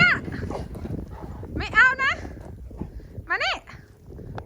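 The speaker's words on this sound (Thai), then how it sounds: "ไม่เอาไปเห่าเขาทำไม" A dog gives three high, yelping barks spaced a second or two apart outdoors during a snowstorm, with low rustling and background noise between them.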